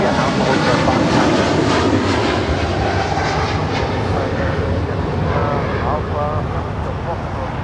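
Eva Air Cargo Boeing 777 freighter departing Los Angeles International Airport, a loud, steady broadband jet engine roar that holds throughout and eases slightly toward the end.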